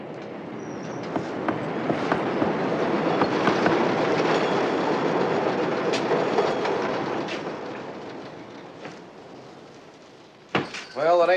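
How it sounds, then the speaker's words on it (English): A train rumbles steadily past for several seconds, its broad roar rising and fading with faint clatter, followed by brief noises near the end. "How often does a train go by?"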